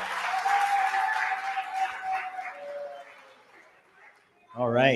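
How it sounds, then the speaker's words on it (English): An audience applauds the second grade class at a Chinmaya session, clapping that holds steady and then fades away, followed by a voice starting to speak. "can we give one more round of applause for the second grade classroom?"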